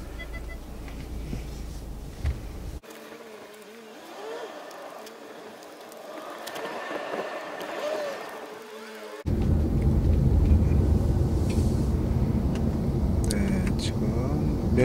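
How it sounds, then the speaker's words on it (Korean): A Mercedes A-Class is driven on the road during a test drive. A low cabin rumble and a broad road-noise wash drop to a quieter, thinner stretch in the middle, then return louder. No clear speech. "이제 도로 주행 한번 나가 볼까요? 테스트 주행입니다."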